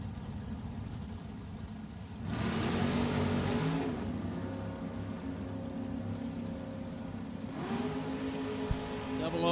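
A drag racing truck makes a run at a drag strip, its engine heard at a distance in two surges of roaring revs and shifting tones over a steady low background rumble.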